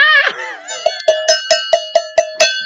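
A loud, close cowbell is struck eight times at a steady pace. Each hit rings out bright and metallic and fades quickly, after a brief opening swell of tonal sound.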